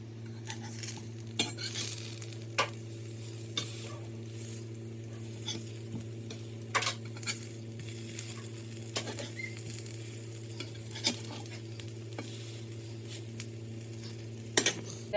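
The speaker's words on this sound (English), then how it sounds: "I'm making the sausage patties." Vegetarian sausage patties bound with breadcrumbs frying in a pan, a quiet sizzle under a steady low hum, punctuated by irregular clinks and scrapes of a utensil against the pan.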